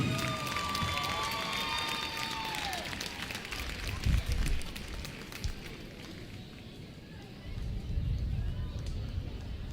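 Gym crowd applauding and cheering at a high school basketball game for the 5A state championship cheer team, a steady broad roar with bursts of whooping, a busier patch near the start and a swell again near the end.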